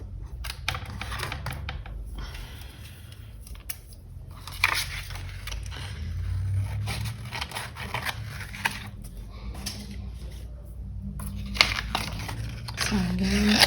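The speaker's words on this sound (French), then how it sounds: "Alors, ciseaux." Scissors snip and crinkle through thin material while building a loft-style scale model, a steady run of close, small cutting and rustling noises over low background hum.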